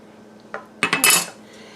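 A utensil scrapes and clinks against a baking pan while spreading a thin layer of red enchilada sauce, a few short close metallic strokes with no speech.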